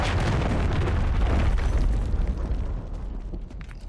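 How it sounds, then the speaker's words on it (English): A cruise missile blast in Call of Duty Modern Warfare 3 multiplayer, a loud, deep rumbling explosion that roars for about two seconds and then slowly dies away with crackling debris. "Hostiles launched a cruise missile."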